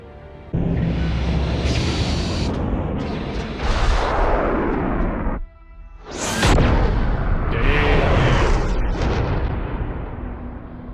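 Torpedoes fired in a space battle from The Expanse, a loud sustained launch roar with whooshing bursts, a sharp drop at mid-clip, then a second rising blast and rumbling rush that carries to the end, with no talk.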